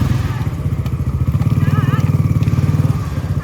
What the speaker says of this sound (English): Get that Kawasaki out of here.